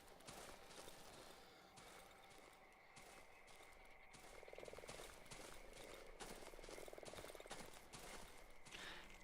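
Frogs croaking in the dark survival horror game Darkwood, a quiet, ambient chorus of rasping croaks that pulses softly over a hissy background, with no voices.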